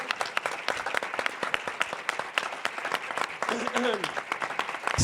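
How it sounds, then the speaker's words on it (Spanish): Audience applause for a guest at a film award panel, fairly sparse with distinct individual claps in an irregular rhythm, and a voice briefly speaking under it near the end. "Nacho Ruiz Capilla, señoras y señores, fuerte aplauso."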